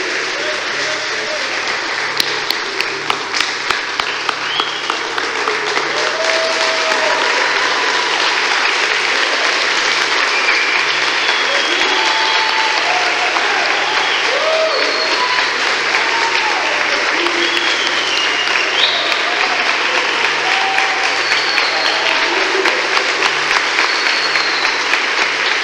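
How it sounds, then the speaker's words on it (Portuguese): A church congregation claps and praises during a prophetic service, sustained loud applause filling the room for over twenty seconds, with voices calling out and singing mixed into the clapping. "Aplauda e glorifica o Senhor."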